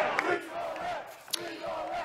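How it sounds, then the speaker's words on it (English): Crowd of Djokovic supporters in Melbourne cheering and shouting over his release from detention, a brief burst of many voices at a distance with one sharp yell rising above the din. "we've already heard from his supporters celebrating his release from detention"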